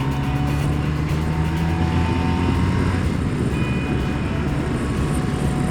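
A BMW motorcycle out on a ride gives a steady engine drone mixed with broad wind rush, holding even and loud throughout with no speech.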